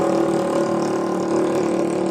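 A Yamaha Mio motorcycle engine, started with the kick starter after the electric starter fails, runs at a steady, even idle close by with a buzzing drone and no talking.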